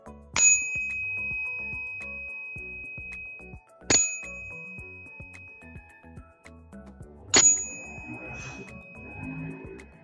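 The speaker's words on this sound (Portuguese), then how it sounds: "Bater esse sino 3 vezes para equilibrar tudo." A small meditation bell is struck three times, each a bright ringing ding that decays slowly, spaced a few seconds apart; quiet low handling sounds and a soft hum sit between the strikes.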